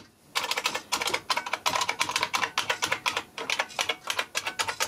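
Rapid, crisp clacking of buckling-spring keys on an IBM Model M keyboard, a close, steady stream of keystrokes with brief pauses and no talking.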